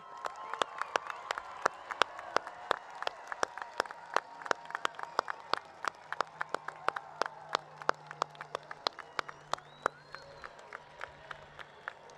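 Audience at a high school graduation commencement applauds steadily, dense clapping with sharp individual claps standing out near and far, a faint low hum underneath and no speech.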